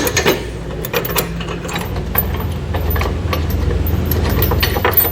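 A bolt being threaded by hand through mounting brackets into a Westin E-Series round nerf bar tube step on a 2021 GMC Canyon, close metallic scraping and faint clicking over a steady low rumble, with no talking.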